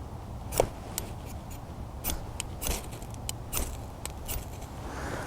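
A ferro rod being struck with a scraper to light a fire starter outdoors. It gives several sharp, bright scraping strikes at irregular intervals, close and fairly loud, with no talking.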